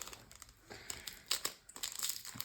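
Crinkly plastic blister packaging of a trading card booster pack being torn open and unwrapped, with quiet bursts of crumpling and crackling close by and no talking.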